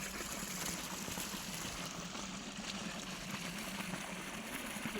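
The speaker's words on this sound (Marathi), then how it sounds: "चालले पाणी." Irrigation water running through a wheat field on a sunny day, a faint continuous trickle and gurgle with soft splashy texture, steady and low for the whole moment with no voices.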